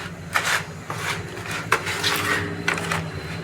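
Red soil, jute and coco peat are mixed by hand for compost, giving soft rustling scrapes with a few sharper rubbing bursts at irregular intervals, close and fairly quiet.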